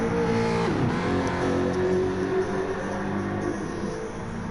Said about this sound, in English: Hearing the other cars come by